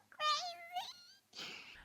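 A high-pitched, sped-up sounding voice squeaks out a couple of short, cartoonish syllables through a chipmunk voice effect on a Rodecaster Pro 2.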